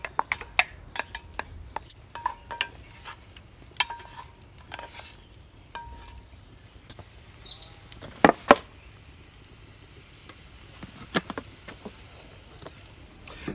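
Chilies, garlic and ginger frying over a fire in a Petromax FT3 Dutch oven with browned chicken for a curry: a steady low sizzle broken by scattered sharp clinks and scrapes of stirring, with no voices.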